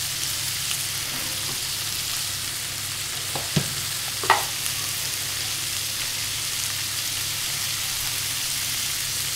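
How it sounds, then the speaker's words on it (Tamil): Vegetables sauté with salt in a pan, giving a soft steady sizzle beneath a couple of sharp metallic taps and scrapes from a stirring spoon, close but fairly quiet, with no one speaking. "இது அப்படியே இந்த காய்கறியை போட்டு வதக்கணும்."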